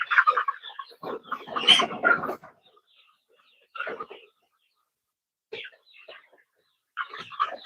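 Backyard chickens cluck and squawk nearby in short, scattered bursts, with a loud flurry at the start and brief calls separated by silent gaps.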